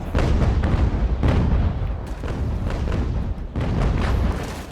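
Sailing-ship cannon broadsides fire in the naval game Ultimate Admiral: Age of Sail, a rolling series of deep booms overlapping one another, loud and dense, with several distinct heavy blasts standing out.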